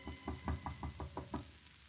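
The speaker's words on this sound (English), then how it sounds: "Her father knocks at the door." Knocking on a door in a 1930s radio drama: a steady series of about seven firm, evenly spaced knocks, close and clear, with no voices.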